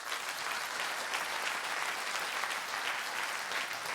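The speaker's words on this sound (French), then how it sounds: "Ceux-là sont applaudis aussi." A theatre audience at the closing ceremony of a comedy festival applauds the crew, a loud, sustained wash of many hands clapping at an even level throughout.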